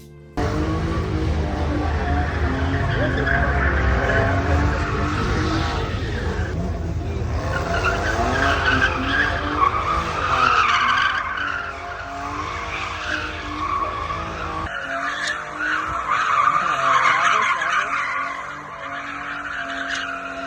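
An Audi converted to rear-wheel drive for drifting slides hard, tires squealing in long sustained screeches over a roaring engine, loud and close, with occasional faint voices.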